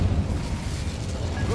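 An Incendio fire spell is cast in Hogwarts Legacy, a dense, roaring burst of flame with a low rumbling boom that fills the whole moment.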